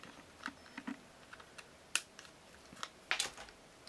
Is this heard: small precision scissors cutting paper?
yes